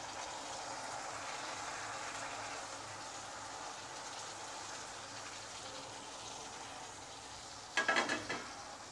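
Steady sizzling of chayote frying in a pan with soft stirring scrapes throughout, then a few sharper clatters near the end.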